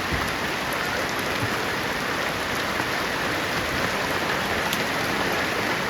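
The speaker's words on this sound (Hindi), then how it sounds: "कितना बारिश दे रहा है।" Heavy rain pours steadily in a village, a dense, even hiss of drops on surfaces that stays loud and close with no voices.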